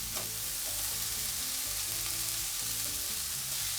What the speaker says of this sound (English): Once the onions have sweat slightly, I will add my ginger garlic mix chopped. Let this sweat slightly.